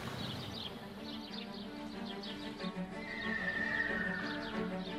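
An Arabian stallion neighs, a high whinny standing out against a steady background of faint clopping and outdoor ambience, with the call stretching out near the end.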